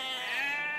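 A sheep from the sandbox building game Block'hood gives a single short, bright bleat, close and fairly loud, with no talk around it.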